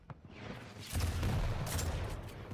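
Machine gun and railgun fire crackle in a Quake Champions match at a LAN event, with a quiet opening that swells into a dense, sustained roar of rapid shots and impacts, close and loud, with no talking.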